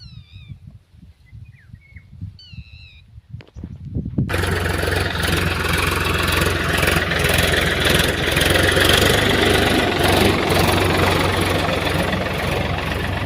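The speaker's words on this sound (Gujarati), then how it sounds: "એટલે જો ટ્રેક્ટર આ સાઈડ મારવાનું ચાલુ છે" A cat meows a few times against quiet background, and then a tractor clearing tall grass in a field starts up abruptly and keeps running with a loud, steady mid-pitched engine drone.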